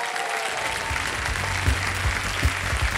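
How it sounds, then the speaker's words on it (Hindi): A studio audience at a TV quiz show claps for newly introduced contestants, a dense, steady round of applause with a few sharper, louder claps standing out and no voices over it. "तालियां बज जाएं इनके लिए।"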